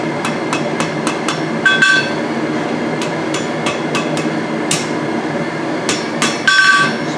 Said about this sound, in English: I'm going to hammer this thing down